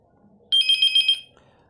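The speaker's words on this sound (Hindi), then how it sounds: "अब मैं इसकी आपको वॉल्यूम सुना देता हूँ कि बेल इसकी कैसी बजती है" A Beetel B17 landline phone set to high volume gives one loud, shrill electronic ring, a rapid warbling trill lasting under a second, close by and otherwise quiet.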